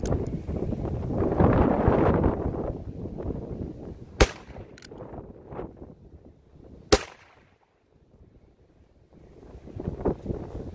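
Two sharp, distant cracks from a .22 pistol fired outdoors at long range, spaced a few seconds apart, over heavy gusting wind buffeting the microphone.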